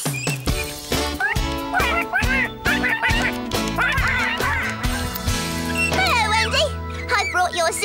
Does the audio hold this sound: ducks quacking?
yes